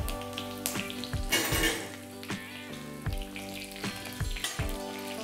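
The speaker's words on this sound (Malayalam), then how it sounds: "കടുക് പൊട്ടി തുടങ്ങിയിട്ടുണ്ട്." Mustard seeds pop and crackle in hot coconut oil for a Kerala-style chicken thoran, with sharp, irregular pops over a steady sizzle and a faint tonal hum underneath.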